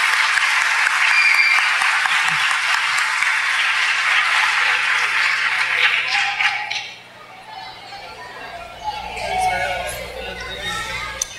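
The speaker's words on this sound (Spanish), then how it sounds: "De nuevo, un aplauso para Licos." Audience at a school awards night gives sustained loud applause, a dense clatter of many hands that fades around midway into quieter scattered claps, murmuring and crowd chatter.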